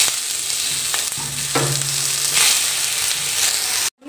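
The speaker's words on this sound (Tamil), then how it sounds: "பாதி வதங்கினதுக்கப்புறம் பூண்டு, அதையும் சேர்த்து நல்லா வதக்கி ஆஃப் பண்ணிடணும்." Onion, tomato and garlic sauté in a pan for tomato chutney, a steady close sizzle with occasional stirring scrapes, ending abruptly.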